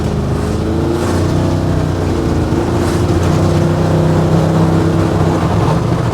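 A 1969 GMC truck with an LS3 engine pulls hard under light throttle, a loud, close, steady engine drone with a deep rumble that holds strong throughout and rises slightly as it gains speed.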